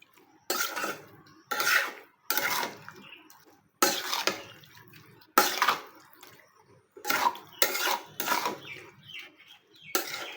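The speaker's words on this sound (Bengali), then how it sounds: "ডালগুলো দেওয়ার পর আবারও ভালোভাবে মিশিয়ে নিতে হবে এবং বেশ কিছুক্ষণ ধরে এগুলো কষিয়ে নিতে হবে" Metal spoon scraping and clattering against a pan while boiled chickpea dal and pointed gourd are stirred and fried down, in short repeated bursts with brief pauses, close and fairly clear, no talking.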